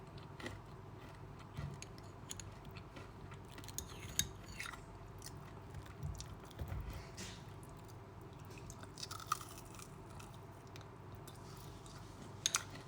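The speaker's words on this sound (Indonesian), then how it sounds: "Oke, aku akan memakan pempek terakhir aku ya" Crispy pempek kulit, a fried fish-skin cake, crunches between teeth in a run of soft bites and squishy chews, close and fairly quiet with no talking.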